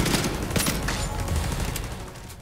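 Automated turret fire in The Division 2 at the Jefferson Trade Center, a steady stream of rapid gunshots with sharp louder cracks near the start, continuous and close for the whole stretch.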